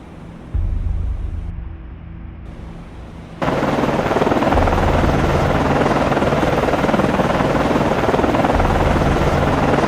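A naval helicopter in the submarine and warship simulation game Cold Waters gives off a loud, constant rotor and engine roar that jumps sharply in volume partway through and holds steady, with no talking.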